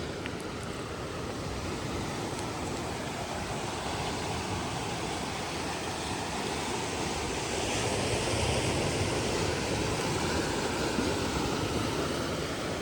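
Ocean surf washes against seaside cliffs in a steady, dense roar with no pauses and no talk, swelling slightly toward the end.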